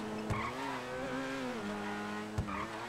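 Grotti Bestia GTS sports car from GTA V, its engine note rising and falling in steady harmonic tones with two sharp bursts, sustained and fairly close with no talking.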